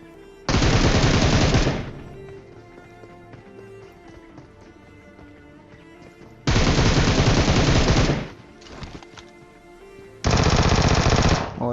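Loud automatic gunfire from the video game PUBG Mobile comes in three long, rapid bursts, separated by quieter stretches of game ambience.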